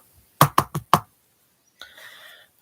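Four sharp knocks on a door in a quick, slightly uneven rhythm, close and loud, followed by a faint sustained tone after a pause.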